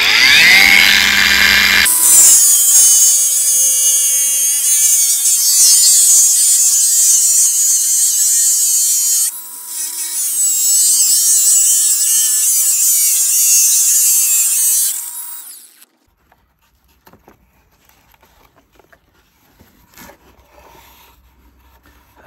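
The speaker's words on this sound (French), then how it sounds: "Donc, je le fais à la meuleuse." Angle grinder cutting in a rally workshop, a loud high whine running steadily for about fifteen seconds with a brief dip midway, then stopping and leaving near silence with faint clicks.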